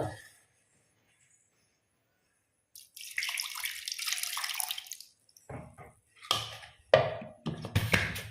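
Water splashes and pours in short bursts into a mixer jar after a quiet start, with clattering and a brief rush of liquid near the end.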